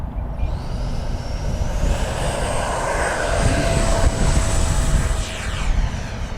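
A small Banana Hobby X-FLY T-7A RC jet with a 64mm electric ducted fan flies past outdoors. Its steady, loud whine rises in pitch, then holds with a rushing roar as it passes close by.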